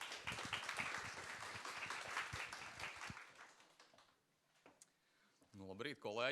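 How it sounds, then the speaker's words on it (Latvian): Audience applause welcoming the director of the State Labour Inspectorate onto the stage at a conference on psychosocial risks at work; sustained dense clapping from a crowd that fades out over about four seconds, followed by a brief voice. "Sagaidām ar aplausiem, dāmas un kungi."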